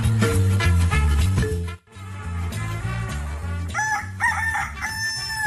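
A rooster crows loudly and close by with a long, full cock-a-doodle-doo, then a second rooster answers with higher, strained calls, all over a continuous musical backdrop.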